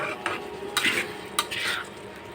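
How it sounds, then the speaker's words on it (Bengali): A spatula scrapes and stirs a spiced egg kofta curry base being sautéed in oil in a pan, with a few distinct scraping strokes over a soft background sizzle, close by and without speech. "যতদিন তেল না ছাড়বে একটু কষিয়ে নেব"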